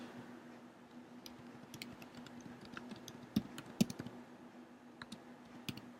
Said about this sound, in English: let's see if I can type that in